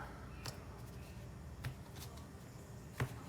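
A deck of trading cards for a Galaxy-Eyes Photon game is cut by hand, producing a few soft card shuffles and riffles, three brief flicks spaced over quiet background.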